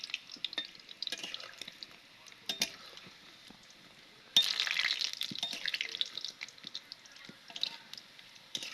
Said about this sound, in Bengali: এবার এগুলো আমি উল্টে পাল্টে একটু লাল করে ভেজে নিব।